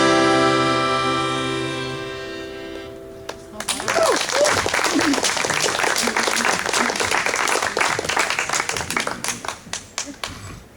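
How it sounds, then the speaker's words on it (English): House concert audience breaking into applause after a song, a sustained burst of many hands clapping that thins out toward the end, following a fading sustained musical tone. "That was excellent clapping."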